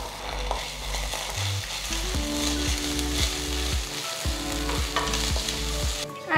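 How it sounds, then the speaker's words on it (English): Onions and shallots sizzle and fry steadily in a pan for a squid masala, with rhythmic scraping and clanking of a spoon stirring against the metal, no voices. "So I'm mixing 2 kinds of onions here. That is the large onions and the shallots."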